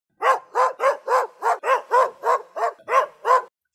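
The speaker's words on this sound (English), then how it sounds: "The dog flies across the room and launches himself at the door, barking and snarling the whole way." A dog barks eleven times at the doorbell in a fast, steady rhythm, sharp and loud at close range, then falls silent.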